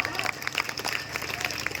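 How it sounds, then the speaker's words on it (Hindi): A crowd at a political rally claps on cue, a brief patter of applause heard together with a voice. "तालियां बजाओ"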